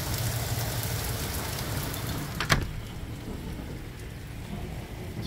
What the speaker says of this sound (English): Good rain. You can hear it hitting the window.